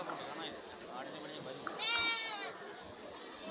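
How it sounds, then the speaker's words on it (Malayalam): Goats bleating at the Kilimanoor livestock market in Kerala; one clear bleat stands out midway over a busy murmur of voices and crowd noise. "ഒരുപാട് ആടുകൾ ഇതാ ഈ സ്ഥലത്ത് വാങ്ങി മാറ്റി കെട്ടിയിരിക്കുകയാണ്"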